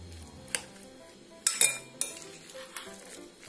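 A spoon mixing coleslaw with black pepper powder in a bowl, with a few distinct clinks and taps of metal against the bowl between soft stirring sounds, close up and without talk.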